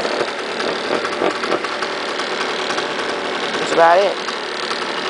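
A 2002 Bombardier DS 90 kids' quad with a two-stroke engine idles with a steady, buzzing mid-pitched drone that swells briefly. Someone talks over it.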